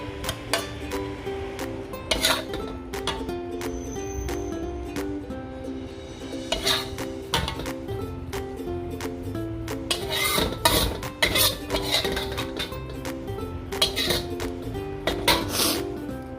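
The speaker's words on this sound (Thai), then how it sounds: "นี่ค่ะข้าวไรซ์เบอร์รี่นะคะ ใส่ลงไปเลย" Riceberry rice tipped into a pan and stirred, with repeated metallic clinks and scrapes of a utensil against the pan and soft sizzling in between, close and moderately loud.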